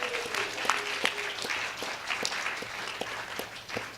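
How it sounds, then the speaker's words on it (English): An audience at a climate advocacy training applauds new lobbying teams, a steady patter of many hands clapping at moderate volume from start to finish. "let's have a round of applause for all our brand new lobbying teams"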